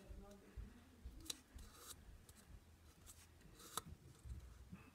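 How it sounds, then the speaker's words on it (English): Scissors snip and slide through paper while a paper coffee cup carrier is being made, with a few sharp crisp cuts among soft rustling handling noises, close and quiet. "I just like sticking the scissor in as far as it lets me go without ripping the paper up"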